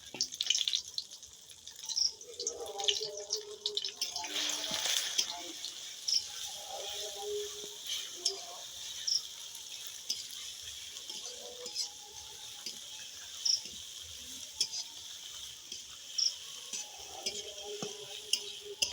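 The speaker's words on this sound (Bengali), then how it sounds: "সয়াবিনটা ভালো করে নেড়ে চেড়ে ভালো করে ভেজে" Soybean chunks frying in mustard oil and being stirred in a pan, a faint sizzle under intermittent scraping and clinking of the stirring utensil, quiet and sparse.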